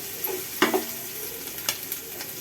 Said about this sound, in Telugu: అల్లం వెల్లిపాయ పేస్ట్ మసాలా బాగా వేగిందండి